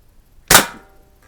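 A single sharp crack of a Crosman 140 .22 pellet rifle shot as the pellet punches through a can at seven yards, loud and brief with a quick decay, nothing else around it.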